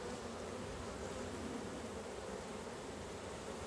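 A honeybee colony exposed during a cut-out hums in a steady, dense, faint buzz with no breaks and no voices.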